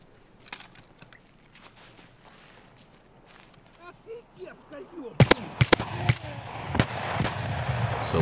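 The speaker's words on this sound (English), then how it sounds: "So where the fuck is that scav shooting from?" A scav fires in Escape from Tarkov: after quiet footsteps and rustling, a burst of sharp, loud gunshots cracks close by in an irregular run, with a voice speaking briefly over the rustling before the shots.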